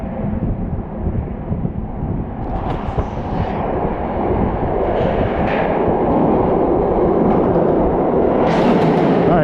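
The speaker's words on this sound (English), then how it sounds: "This is my train." A New York City subway train rumbles into the station loudly, a heavy low roar building steadily with screeching brake squeals and hisses near the end.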